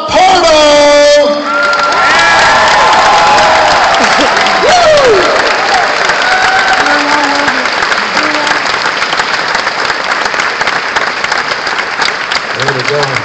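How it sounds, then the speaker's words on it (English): An audience at a video game awards event applauding and cheering, with loud sustained clapping, whoops and shouts filling the room throughout, and a voice briefly heard near the start. "Give it a round of applause for Rob Pardo!"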